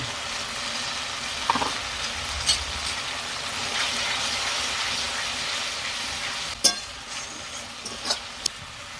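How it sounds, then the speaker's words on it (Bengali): Spice paste of tomato, green chilli, turmeric and salt sautéing in a pan for a chicken and jackfruit curry, a soft steady sizzle with a few scrapes and clinks of stirring. "আমার মশলাটা ভালো করে কষানো হয়ে গেছে"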